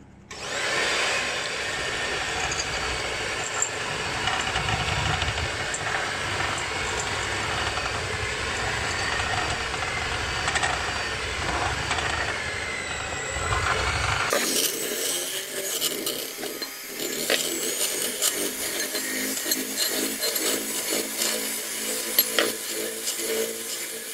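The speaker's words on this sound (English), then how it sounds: "So use an electric whisk to mix together, and then slowly add the 175 millilitres of milk." An electric whisk whirs continuously while mixing batter with milk for toad in the hole, a steady loud motor drone that shifts to a lighter, rattling tone partway through.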